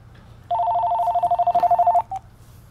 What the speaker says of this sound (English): And then then the phone rang.